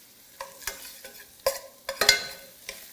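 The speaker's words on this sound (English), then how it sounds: "by stirring it, just giving it stirs every now and then, you're really making sure that they're sweated out and not really sauteed out" Onions sweat in a pan while being stirred, with a series of close scraping strokes over a low sizzle in a short, uneven rhythm.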